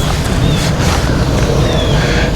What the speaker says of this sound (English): Sounds like there's a good bit of water falling down in there.